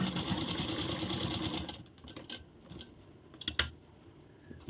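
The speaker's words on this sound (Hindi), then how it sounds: "अब क्या करना है, यहाँ से हम सिलाई शुरू करेंगे।" A sewing machine runs steadily, stitching along a blouse neckline, then stops, leaving faint handling clicks and taps of fabric being adjusted close by.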